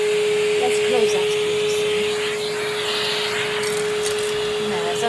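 A Henry canister vacuum cleaner runs close up beside a fireplace, a steady droning whine with shifting suction noise as the nozzle moves, and voices talk over it.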